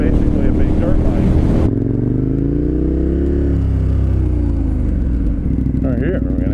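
A KTM 1090 Adventure R motorcycle cruising on a freeway, its steady engine drone and wind rush loud and continuous, with a rider's voice talking over it near the start.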